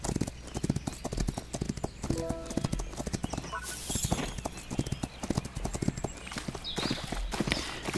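Horse hoofbeats from riding in the video game Rival Stars Horse Racing: a brisk, rhythmic clip-clop of hooves repeating close and clear throughout, with a brief whinny-like tone partway through.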